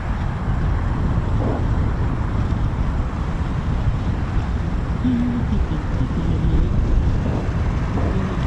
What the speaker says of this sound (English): It's a little bit breezy here, Ted.